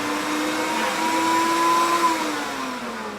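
A blender with blue lighting runs on a blend cycle as a loud, steady motor whir with a rising and falling pitch. No one speaks over it.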